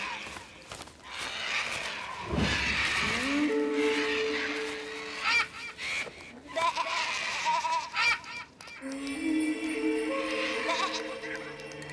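Goats bleat several times in wavering, nasal cries, some close and loud, with other farmyard noise between the calls.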